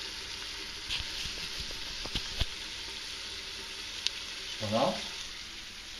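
Duck legs sizzle steadily in a pan while a wooden spatula scrapes and taps against it a few times; a voice speaks briefly near the end.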